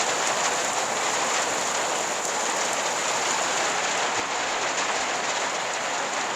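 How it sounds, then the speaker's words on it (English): Steady rain falls outdoors at an off-grid tiny house ranch in Arizona, a dense, even hiss of drops hitting surfaces that holds at constant loudness throughout, with no voices. "It's raining out."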